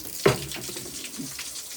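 A household tap runs steadily to fill a small bucket with cleaning water. The rush is fairly quiet and even, with a brief louder splash near the start.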